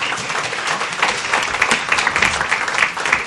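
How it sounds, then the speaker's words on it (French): An audience at a French university conference on equal opportunity in education applauds, a dense close wash of clapping that holds steady throughout. "il est prévu dans le programme, que vous applaudissez."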